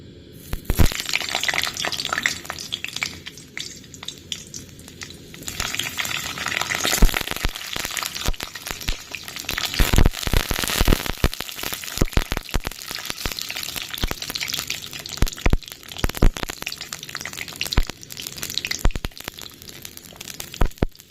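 Small, tender homegrown brinjals fry in hot oil, a loud, dense, continuous sizzle with crackling pops and spatters throughout, close up and alone.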